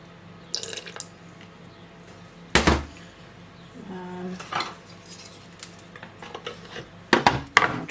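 A utensil stirs and scrapes inside a jar as a sourdough starter is mixed with flour and water, sharp irregular clinks and knocks against glass over a quiet background, close by.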